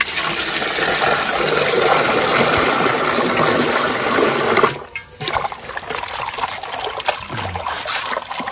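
Water running and splashing over freshly cut fish being washed in a bowl, a loud continuous gush of pouring water that briefly stops, then resumes as softer trickling and splashing nearby.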